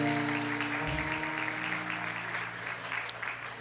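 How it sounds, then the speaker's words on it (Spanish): A church congregation applauds during a morning service in a fairly soft, continuous patter of clapping, with sustained instrumental music humming underneath. "Dale un fuerte aplauso a Jesús en esta mañana."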